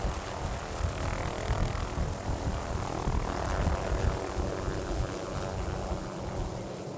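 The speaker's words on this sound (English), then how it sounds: "that is such a nice helicopter" A helicopter flies over snowy country in a steady, loud, broadband rotor and engine drone that swells slightly and stays constant throughout, with no voices.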